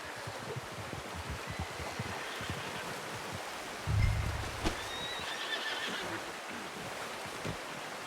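A horse in Red Dead Redemption 2 gives a short snorting whinny over soft, steady hoof clops and a rushing, stream-like ambience, with no speech over it.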